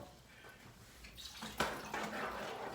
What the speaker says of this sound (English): So, I put a little bit of water in there. Some water. Gonna put about a cup